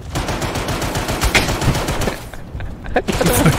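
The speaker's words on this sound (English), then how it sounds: "This guy's shooting the floor." Rapid gunfire in a shooter training session, dense bursts of shots overlapping at close range, loud and continuous with a brief lull before more scattered shots.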